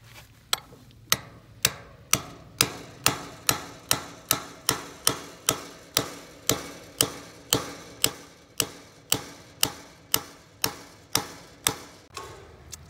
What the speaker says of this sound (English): then we will actually hammer this into the post